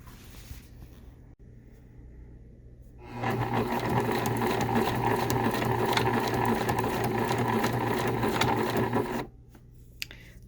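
A sewing machine stitches a zigzag on denim-style overalls, running steadily at a rapid even chatter for about six seconds, close by, with quiet pauses before and after.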